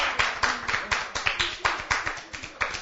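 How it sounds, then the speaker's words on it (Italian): A small crowd at a youth cycling race event claps in a steady rhythm, sharp distinct hand claps repeating at a regular beat close by, with little talk beneath. "dai, un applauso"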